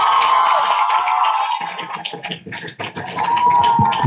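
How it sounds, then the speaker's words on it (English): A graduation ceremony audience at an international school applauds the class of 2026, a dense, steady wash of clapping with some crowd noise that thins briefly midway, then swells again. "Let's give them a round of applause."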